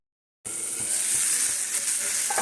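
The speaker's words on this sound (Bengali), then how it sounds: "আলুটা এইভাবে একটু কষিয়ে নিই ঢাকিয়ে কষিয়ে নিই" Potatoes sauté in a hot pan, giving a strong continuous sizzle that starts abruptly after a brief silence and stays loud and even, with faint stirring underneath.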